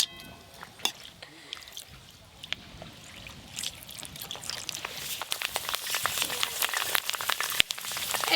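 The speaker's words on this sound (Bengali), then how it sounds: "এই তো এবার ফুচকা ভেজে নেব।" Fuchka frying in hot oil, a steady sizzling crackle with sharp pops that thickens and grows louder over time, under faint background sounds.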